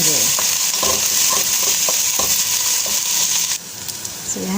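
Garlic, chili and ginger paste sizzles hard in a hot pan for a prawn machboos, a loud continuous hiss with stirring scrapes that briefly drops and swells again near the end.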